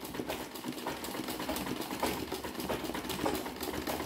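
A sewing machine doing free-motion machine embroidery, stitching a sunflower in a vase design, hums in a steady, dense run of rapid stitches for several seconds with no talking.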